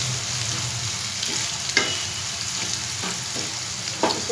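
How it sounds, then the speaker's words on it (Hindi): Ingredients fry in a pan over a steady sizzle while a spoon scrapes and stirs, giving a few distinct knocks and clatters against the metal, heard close and without talk. "थोड़ा पिंक कलर आने तक भूनेंगे।"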